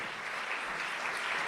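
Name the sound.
congregation applause during a sermon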